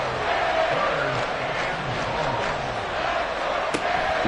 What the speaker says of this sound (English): This crowd turning up the decibel level.